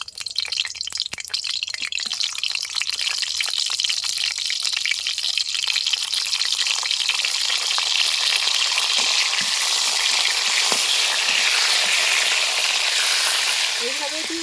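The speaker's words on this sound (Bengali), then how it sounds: "সর্ষের তেল দিয়ে দিচ্ছি তেলটা গরম হয়ে গেছে এর মধ্যে আমি করলাগুলো দিয়ে দেবো" Bitter gourd pieces drop into hot mustard oil in a kadai and set off a loud, continuous frying sizzle with fine crackling that holds steady throughout.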